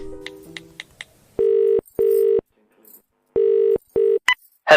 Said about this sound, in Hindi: पुलिस को फोन लगा के पूछती हूँ